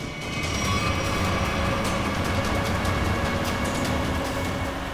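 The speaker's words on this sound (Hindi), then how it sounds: "जिस तरह से इन लोगों ने गाड़ी तेज की है" A fleeing getaway car speeds off in a pursuit: a continuous loud roar of engine, road and wind noise that holds steady throughout, with no voices.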